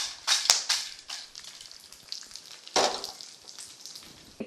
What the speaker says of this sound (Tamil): மிளகாயெல்லாம் நல்லா வெடிக்கிறது.